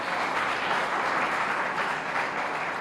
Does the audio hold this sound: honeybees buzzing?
no